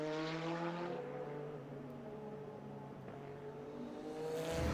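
A Porsche 962C Group C race car engine droning loud and steady, its tone holding and then rising again toward the end, with no voices present.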